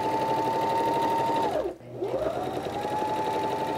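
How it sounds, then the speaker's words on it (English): A sewing machine stitches along a torn fabric edge with a steady, close, rapid whirring hum. Partway through it briefly slows to a stop and then speeds back up. "And just stitching along that edge here."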